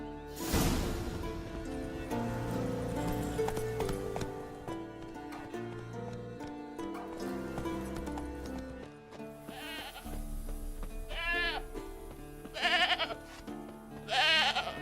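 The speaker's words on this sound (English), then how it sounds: "A goat." A goat bleats several times in The Witcher 3, short wavering cries over background game music at moderate distance.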